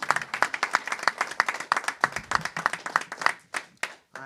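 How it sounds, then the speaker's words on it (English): A small audience applauding police officers at a veterans event, a brisk flurry of close handclaps, fairly dense and lively, that thins out and stops just before the end. "We should applaud the cops"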